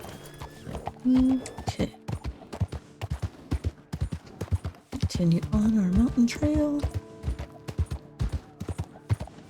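A horse carries its rider along a mountain trail in Red Dead Redemption 2, hooves clip-clopping in a steady, close walking rhythm, with a brief whinny in the middle and someone talking over it.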